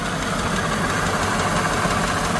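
A 1983 Cadillac with the 4.1 V8 (4100) idles just after starting, a loud, close, steady rumble with an even throb and a slight knocking texture, with no talk over it.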